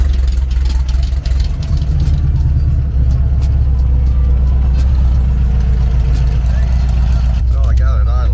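A VW Beetle engine fitted with an EMPI carburetor idles close by with a steady, deep, loud rumble throughout, while voices seem to be faintly present under it.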